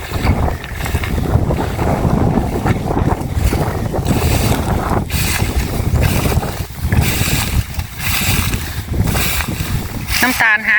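Strong outdoor wind buffets the microphone in continuous roaring gusts, loud and unbroken for the whole stretch while riding a vehicle through farm fields, with voices faintly under the noise.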